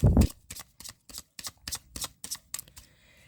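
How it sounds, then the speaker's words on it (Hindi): Tarot cards are shuffled by hand in a quick riffle of about ten crisp, papery slaps in an even rhythm. The sound is close and moderately loud, opening with a brief heavier rustle. "last shuffle"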